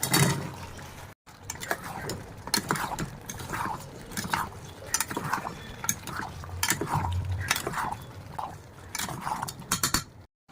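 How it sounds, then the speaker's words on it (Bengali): Boiled potatoes are tipped into a spice mix with peas in a pan for Bengali aloor dom and stirred, giving repeated scraping and clattering of a utensil against the pan in an uneven rhythm, close and fairly loud, with no talking. "মশলা মোটামুটি রেডি হয়ে গেছে, এবার দিয়ে দেবো সেদ্ধ আলুগুলো।"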